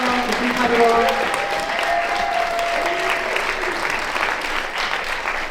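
Audience at a panel discussion for the series Settle Down applauds steadily and loudly, a dense wash of clapping with some cheering mixed in, sustained throughout.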